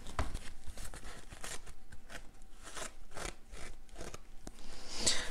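Scissors snip through a planner sticker page in a quiet indoor setting, with a steady run of soft, close cuts and crisp paper crunches following one another with no talking.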